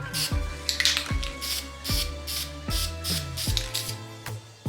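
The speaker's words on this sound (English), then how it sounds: "I take my paint, give it a little shake, and then I just do a couple light coats" Short bursts from a spray paint can coating an off-road light yellow, about eight hissing sprays in a steady rhythm, each opening with a sharp click, close and fairly loud.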